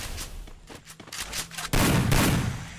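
Rapid bursts of gunfire from the Free Fire battle royale game, scattered sharp shots early on, then a loud, dense volley of shooting filling the final second, with no talking.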